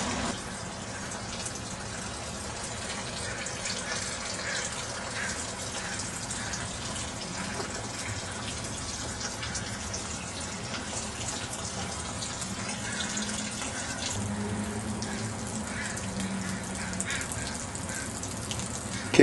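Water runs steadily from a tap during home beer brewing, a continuous broadband rushing gush that holds for nearly twenty seconds without pause.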